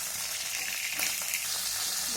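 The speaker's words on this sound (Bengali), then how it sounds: "এখন মাছের মাথাগুলো ভেজে নেব।" Fish heads frying in very hot mustard oil on a high gas flame give off a steady, close hiss and crackle, with a few brighter spits of sizzle popping out above the constant frying.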